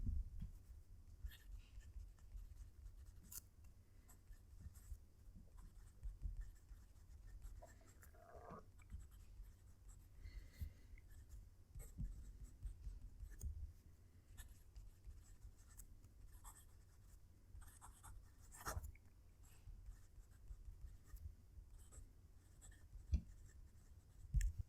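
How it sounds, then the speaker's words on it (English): Quiet scratching of a Delike New Moon 2 fountain pen nib moving across paper, with soft irregular strokes and occasional taps, close to the microphone in a hushed room. "I'll move the microphone down to the paper and we can hear it write."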